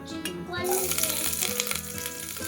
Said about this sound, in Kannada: ಸೊ ಚಿಲ್ಲಿ, ಆನಿಯನ್ ಮತ್ತು ಕರಿಬೇವು. ಇವಾಗ ಆಯಿಲ್ ಹಾಕಿದ್ದೀನಿ ಸ್ವಲ್ಪ ಇದನ್ನೆಲ್ಲ.